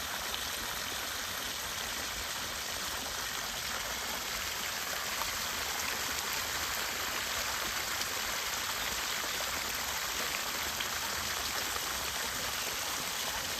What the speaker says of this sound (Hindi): आप पानी का आवाज़ देखें, अभी शाम का समय है तो पक्षियों की आवाज़ भी आएगी।